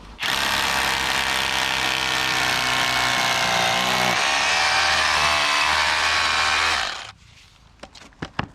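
A power drill bores holes during a garage build, one loud continuous whirring run lasting about seven seconds, then stopping abruptly, followed by a few sharp clicks and knocks.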